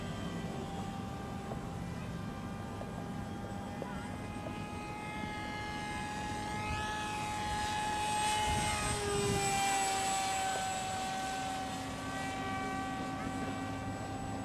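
A large model airplane flies at half throttle, its propeller engine droning steadily with a smooth harmonic whine that swells slightly as it passes closer mid-flight, with no talk.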